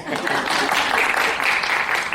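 A meeting audience at a 2012 Character Community AGM claps in a dense, steady burst of applause that fills the room for a couple of seconds.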